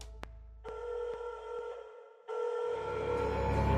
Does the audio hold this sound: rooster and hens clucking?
no